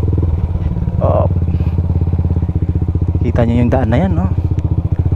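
A motorcycle engine runs steadily at close range while riding along a steep, hazardous Batangas road on small stock tires, a voice talking briefly over the drone.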